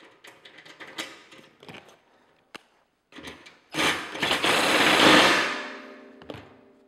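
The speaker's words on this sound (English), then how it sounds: "So all we have to do is bolt this on here." Mounting hardware being bolted onto a Wagner Solar TRIC F tilt racking bracket: sharp metallic clicks and taps, then a sustained loud whirring burst like a power driver, close by.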